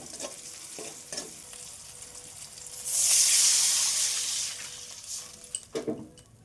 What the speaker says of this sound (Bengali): এইবার এই সমস্ত কিছু একটু নাড়াচাড়া করে নেড়ে নিয়ে